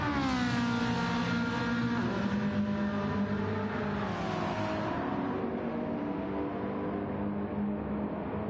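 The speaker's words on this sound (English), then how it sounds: "Ferrari has a nice sound as well." A Ferrari race car engine in a racing video game at the 24 Hours of Daytona revs loudly and steadily, its pitch climbing and shifting through gears for several seconds with no talking over it.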